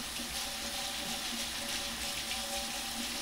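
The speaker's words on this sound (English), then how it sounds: "So I'm just gonna give these a quick scrub with water." Potatoes for baking in a Dutch oven scrubbed under a running tap, a steady broadband rush of water hissing continuously and fairly close, with no talk over it.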